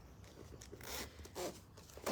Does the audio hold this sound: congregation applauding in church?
no